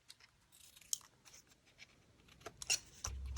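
Scissors snipping master boards, paper craft pieces trimmed into a frame, with a series of quiet, crisp cuts and small crunches spaced irregularly, ending in a louder handling knock; close and faint, no talking.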